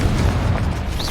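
A Confringo fire spell bursting in the video game Hogwarts Legacy, a dense continuous rumbling blast with deep low-end roar and crackle filling the whole moment, loud and close.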